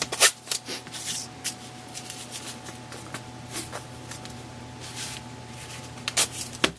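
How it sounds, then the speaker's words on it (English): Painter's tape peeling off a roll in a woodworking shop makes several short, sharp ripping bursts, close and loud, separated by quieter handling noises and a faint steady hum. "I'm going to take some painter's tape."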